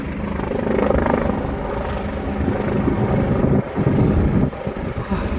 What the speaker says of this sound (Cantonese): 直升機啊！